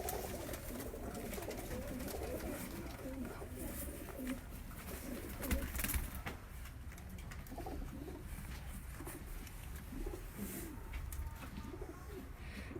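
Pure-bred pigeons kept by a breeder in Johar Town, Lahore coo softly in repeated low, rolling calls, with several birds overlapping at moderate distance over faint background noise and rustling.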